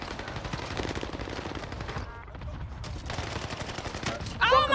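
Rapid automatic gunfire from a Clauser gun fitted with a large magazine, in a video game, rattling steadily across most of the clip with a brief lull partway through, with game effects mixed in.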